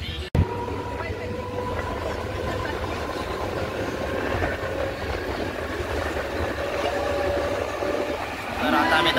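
Train noise at Vipuri station, heard up close: a steady rumble and clatter of rail wagons runs throughout, with a brief sharp sound near the start and a rising whistle-like tone toward the end.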